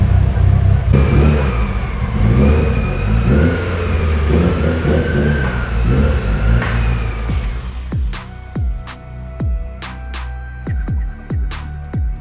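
A straight-piped 700WHP Evo drives with its lower intercooler pipe blown off, its engine roaring loudly and steadily at first, then crackling and popping in sharp repeated bursts between throttle blips.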